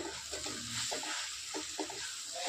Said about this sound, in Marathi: आता याला व्यवस्थित याच्यामध्ये मॅश करूया.